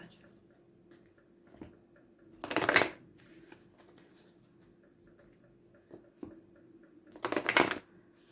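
Tarot cards being shuffled during a reading, two brief bursts of riffling, close and fairly loud, separated by quiet stretches with a faint steady hum underneath.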